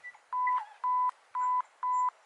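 A camera self-timer beeps on a steady beat during an outdoor landscape photography walk, four clear electronic tones of even length with short pauses between them, close and alone.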